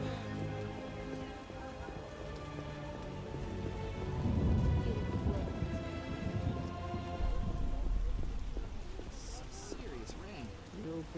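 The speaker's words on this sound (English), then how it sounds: "What a downpour" Heavy downpour with rain pattering on surfaces in The Witcher video game, a steady wash of rain with a low rumble swelling midway; voices talk over it throughout.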